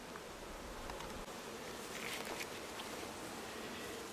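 Honeybees buzz steadily in an open hive during a June inspection, a soft, continuous drone with no pauses and no voices.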